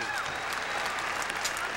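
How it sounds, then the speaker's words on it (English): Applause from a boxing crowd at the end of round 2 of a Custio Clayton versus Jerome Martin bout, a steady dense clapping wash at moderate level throughout. "these guys are getting an ovation like that"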